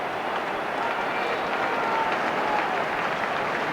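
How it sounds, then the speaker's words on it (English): Dense, sustained applause from a football crowd at Middlesbrough's Riverside stadium in 1995–96, thousands of hands clapping evenly at a distance with no break. "the crowd here at Middlesbrough are really getting their hands together in appreciation of some scintillating football by Middlesbrough"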